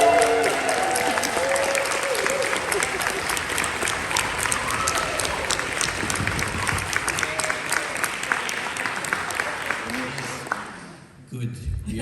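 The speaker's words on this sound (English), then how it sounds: "Those of you who support it can cheer in enthusiastic ways and go bananas." Session audience at an Arctic Circle Assembly food lab event bursting into loud, sustained applause and cheering, a dense wash of clapping that holds steady and then cuts off abruptly near the end.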